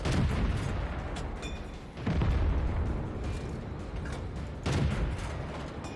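Tank guns fire in the video game World of Tanks, three heavy booming shots with rumbling decay spaced a couple of seconds apart over constant battlefield engine noise, with no talking.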